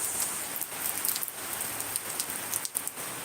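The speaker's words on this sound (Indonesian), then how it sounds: "ini suasana hujan guys" Rain falls in a steady, soft hiss, with scattered drops pattering on a surface throughout and no voices.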